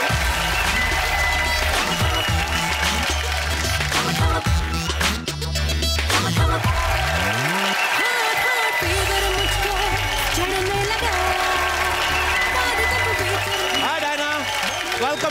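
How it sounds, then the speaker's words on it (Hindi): A studio audience at a Hindi comedy talk show claps and cheers loudly throughout, mixed with background music, with a brief drop in the low sound partway through. "सो आप सबकी जोरदार तालियों के बीच इन्वाइट करना चाहूंगा the very talented mister Abhay Deol and Diana Penty"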